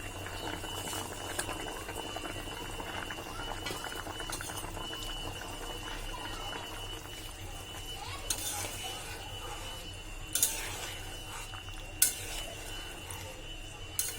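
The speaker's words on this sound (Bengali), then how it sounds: "তরকারিটা বলক এসে গেছে" A pot of fish and potato curry with boal fish, cumin and coriander powder bubbling at a steady boil, with a soft continuous simmer and occasional louder pops or clinks near the pot, and no talking.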